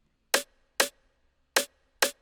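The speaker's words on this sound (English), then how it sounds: "So I got this hard snare from my own sample pack." A very tight, hard snare sample from a personal sample pack, the kind used in an Afro house track, cracks four times at a steady pace, each hit short, bright and dry with clean silence between.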